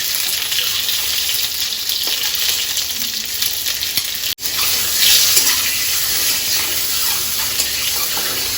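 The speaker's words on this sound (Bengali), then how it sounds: "এই যে ডিমগুলো এখন তেলে দিয়ে দেবো" Loud, steady sizzling of eggs frying in hot oil, a constant crackling hiss with a brief dropout midway.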